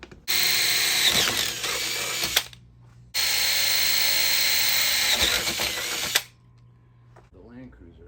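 A power drill drives a bolt for an awning install on a vintage JDM Toyota LandCruiser, two loud sustained whirring bursts of about two and three seconds separated by a short pause, then quiet.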